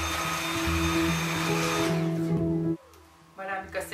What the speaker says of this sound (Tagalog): Vacuum muna tayo.